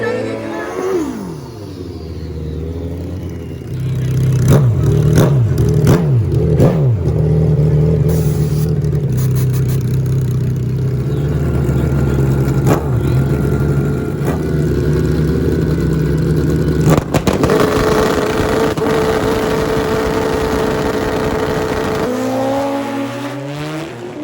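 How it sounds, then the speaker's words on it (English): A street-tire drag car makes a record speed run above 220 mph. Its loud engine holds a sustained roar for most of the run with rising revs, then drops off near the end. "6:59, good solid lap, Jordan."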